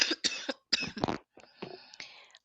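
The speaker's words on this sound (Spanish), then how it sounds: "perdón que ha costado que se me quite esta tos tan molesta" A woman with a lingering, bothersome cough lets out a quick series of harsh, close coughs and throat-clearing bursts in short clusters, alone without speech.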